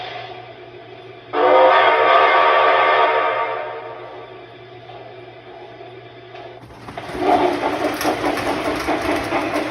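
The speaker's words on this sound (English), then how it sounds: "we're going to have a look at the Lionel Camelback steam engine." A Lionel Camelback model steam engine runs on toy track, its broad rumbling whir swelling in close, easing off, then returning as a busier clattering rush of wheels over rail joints.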